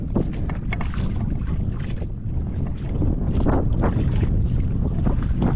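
A large wooden outrigger fishing boat with a replaced engine runs steadily close by, its low rumbling drone continuous under wind buffeting the microphone, with no talk.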